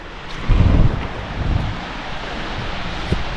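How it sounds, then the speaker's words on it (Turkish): A waterfall at a scenic spot in Peru: a loud, steady rushing roar heard up close, with gusts of wind noise buffeting the microphone and no talk. "Şurası da şelale."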